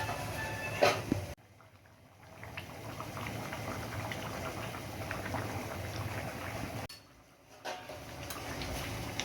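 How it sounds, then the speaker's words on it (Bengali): Egg and potato curry broth boils steadily in a pot, a dense, continuous bubbling and popping that drops away briefly twice before resuming. "ঝোল ফুটে গেছে"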